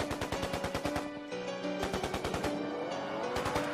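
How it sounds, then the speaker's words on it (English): Gunshot sound effects rattle off in rapid automatic bursts over a rap track's steady beat and sustained tones, loud and rhythmic with brief pauses between volleys. "Look at that fucking gun sound."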